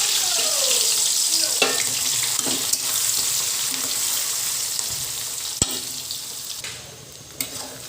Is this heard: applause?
no